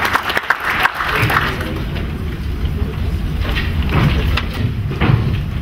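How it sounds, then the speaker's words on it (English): A conference audience at a Zimbabwe diamond event applauds, a broad steady wash of clapping from many hands that holds at an even level for several seconds, with a little murmur underneath. "Give him a big round of applause."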